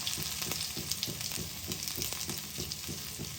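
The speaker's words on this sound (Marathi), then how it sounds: "तर आता तेल गरम झालेलं आहे, त्यामध्ये टाकू जिरा आणि मोहरी" Cumin and mustard seeds crackling in hot oil, a dense, steady sizzle with rapid popping throughout.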